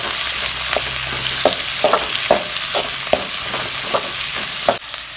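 Chopped onions sautéing in a pan for Tamil egg curry: loud, continuous sizzle with regular spatula scrapes and taps roughly every half second, cutting off near the end.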